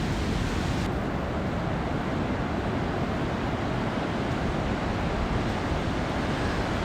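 Ocean surf breaks along an Australian beach by sand dunes at sunrise, a steady, dense wash of roaring noise mixed with wind, constant and fairly loud throughout.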